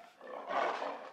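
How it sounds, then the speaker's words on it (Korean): A rhinoceros gives a single brief, throaty roar that swells and fades over about a second, fairly close and alone with no talking. "코뿔소 음소리 들어봐."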